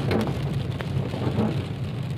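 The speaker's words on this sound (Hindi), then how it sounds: "देख लें आप, बारिश बहुत ज़्यादा है।" Dense, steady rainfall roars outdoors in Medina, Saudi Arabia, with a constant wash of noise and occasional louder drops, with no voices.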